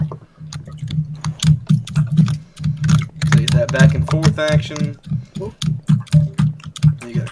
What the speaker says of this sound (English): You guys like the sound of my keyboard?